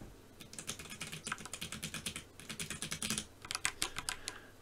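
Typing on a ProtoArc R100 keyboard, a fairly quiet board: steady rapid keystrokes with soft clacks in close bursts, a brief pause midway, then more quick typing.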